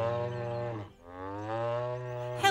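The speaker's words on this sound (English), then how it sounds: "The cow goes moo." A cartoon cow in a children's show lets out two long, drawn-out moos with a short dip between them, steady and fairly loud, with no talking over them.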